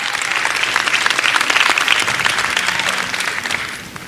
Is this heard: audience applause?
yes